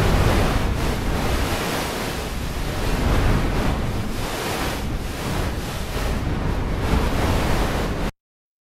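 A dense, continuous rushing hiss like surf or wind, a granular synth texture with a very small grain size and no clear pitch, holding steady before cutting off.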